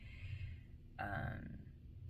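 A person lets out a single short burp at close range, a brief low guttural release in the middle of a quiet, hushed stretch with faint background noise.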